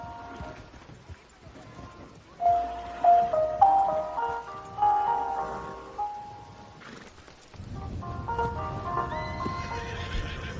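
A horse in the Red Dead Redemption 2 game gives a series of loud, shrill whinnies in the rain, then hooves clatter and shuffle nearby as the animal moves about.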